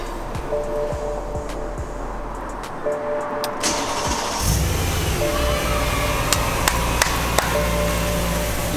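BMW M3 engine fires up for the first time after a rod bearing rebuild: starter cranking, then the engine catches and settles into a loud, steady idle, heard close up.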